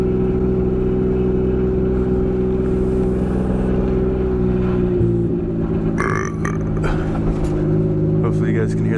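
Loud, close engine of a turbocharged BMW E36 running with no exhaust fitted: a steady harmonic drone that dips and shifts pitch midway, then rough popping bursts and revs near the end, with a voice talking over it.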